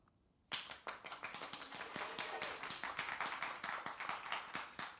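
Members of a Sunday church congregation clap for themselves, the applause starting abruptly after a quiet moment and continuing as a brisk, dense patter of many hands, the individual claps sharp and fairly close.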